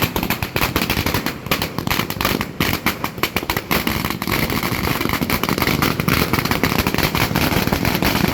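Firecrackers burst at a victory celebration at Sharavati Circle in Honnavar, a dense continuous string of rapid crackling pops going off nearby and loud.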